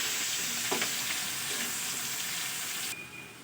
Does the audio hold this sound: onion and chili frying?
yes